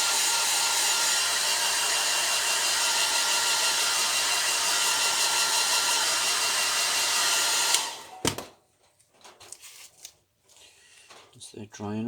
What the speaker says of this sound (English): Old hairdryer again.